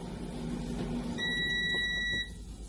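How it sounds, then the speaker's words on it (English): An air fryer signals the end of its cooking cycle with a steady electronic beep lasting about a second, clear over faint kitchen background noise. "there goes my air fryer going off as well"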